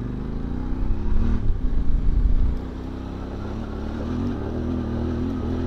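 A QJ Motor motorcycle engine revs hard, swelling into a loud, rough roar for a second or two before dropping back to a steady, lower drone. No one speaks.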